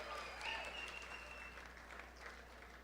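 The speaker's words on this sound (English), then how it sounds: "Give her a round of applause again," An audience at a memorial tribute gathering applauds, a soft, continuous spread of clapping heard from a distance, with a faint tone and voices mixed underneath.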